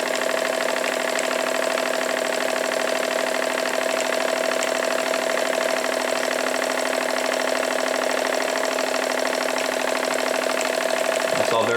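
A Jensen Model 25 toy steam engine runs steadily, giving a continuous, even mechanical whirr with a faint rhythmic chuff throughout, fairly close and constant in level, with no pause.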